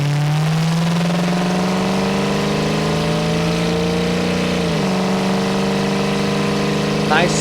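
A 1966 Ford Mustang with a 289 V8 pulling steadily while driving, a loud continuous engine drone climbing gradually in pitch, dipping briefly around a gear change, then resuming.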